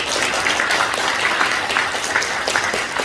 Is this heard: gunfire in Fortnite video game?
no